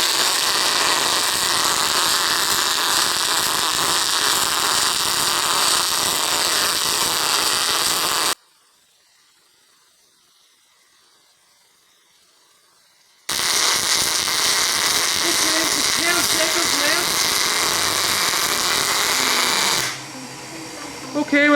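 Automated TIG/MIG welding torch driven by a custom weld weaver oscillator along a metal flange, a loud continuous crackling sizzle that cuts out for several seconds and then resumes, ending in a softer tail.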